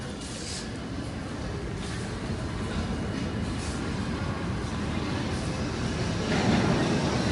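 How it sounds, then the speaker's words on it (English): A New York subway train rumbles steadily through a station, a dense low roar that grows gradually louder and nearer toward the end. "That's what you're hearing in the New York subway"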